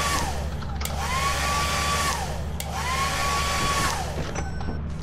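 A hair dryer item in a video game whirs loudly and steadily. Its motor whine rises, holds and falls in two repeated cycles.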